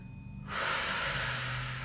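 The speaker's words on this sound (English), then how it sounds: "I'm breathing with you." A deep, drawn-out breath during a guided energy-healing session, quiet at first and then a long steady airy exhale that fills the rest of the moment, with no speech.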